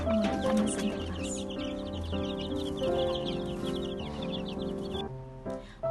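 A flock of KUB chickens at a poultry farm, hatched from eggs in an incubator, clucks and chatters steadily and densely close by, with a background hum running beneath the calls.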